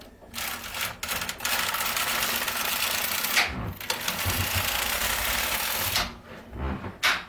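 Domestic knitting machine carriage sliding across to knit a circular row: a steady mechanical clatter and whir in long passes, with short pauses between strokes and no talk.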